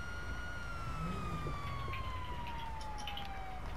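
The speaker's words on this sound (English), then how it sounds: "I'm gonna sit in my car, leave the siren on," Police car siren wailing continuously in a roleplay video game, a steady loud electronic tone gliding slowly downward and sounding close throughout, with no talk over it.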